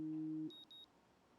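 A phone alarm sounding: a steady two-tone electronic buzz that stops abruptly, followed by a few faint high beeps.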